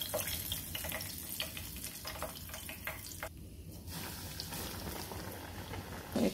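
Chicken necks deep-fry fully submerged in oil, giving a faint, steady bubbling hiss with scattered crackles throughout.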